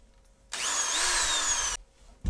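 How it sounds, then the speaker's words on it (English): A power drill bores out the rattle chambers of a fishing stick bait in one steady, loud burst of just over a second, with a brief knock afterward. "This bait has a couple rattle chambers in it that I'm going to drill out and reposition."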